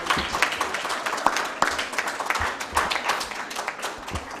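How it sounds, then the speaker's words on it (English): A crowd applauds steadily, a dense patter of many hands clapping at an even level throughout, with a few sharper individual claps standing out. "A round of applause for them."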